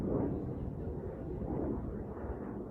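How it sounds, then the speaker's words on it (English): Low, rumbling boom of a distant Storm Shadow missile strike rolls through the air, muffled and sustained with no sharp attack, heard far off under wind noise. "We can now hear the explosion"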